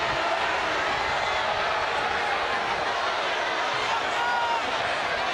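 Football crowd at a Toledo at Bowling Green college game reacting to a late hit, a steady loud wash of booing and murmuring voices filling the stadium without letup.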